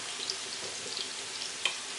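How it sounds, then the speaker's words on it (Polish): Onion and meat frying in fat in a hot pan, a soft continuous sizzle with small crackles and one sharper pop near the end, close by and quiet, with no talking. "Teraz smażymy cebulę, mięso"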